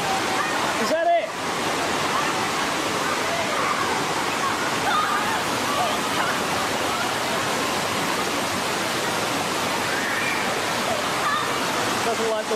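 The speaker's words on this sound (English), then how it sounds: "Doesn't like the waterfall." Waterfall feature at an Olympic swimming pool, a steady loud broadband rush of falling water running continuously throughout, with a brief voice near the start.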